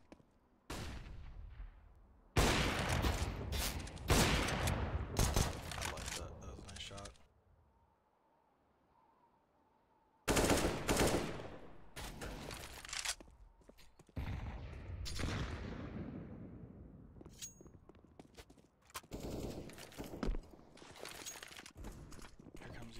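Gunshot bursts ring out during a Counter-Strike style team match on Map 1, loud clustered volleys separated by a short quiet stretch, then further rapid firing toward the end.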